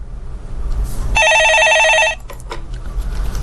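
A telephone rings on a Korean call-in stock market show, one bright electronic trill lasting about a second against quiet studio room noise, followed by faint clicks and no talking.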